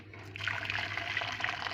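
About 800 grams of boiled water pours steadily into a pot with a soft, continuous splashing, close and fairly quiet over a low background hum.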